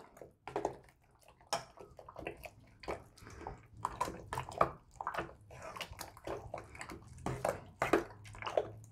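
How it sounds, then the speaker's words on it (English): Strawberry wine mixture for a two-gallon batch being stirred by hand, giving irregular sloshing and liquid swishes with scattered knocks against the container, moderately close and alone without talk. "And you can go ahead and give that a stir."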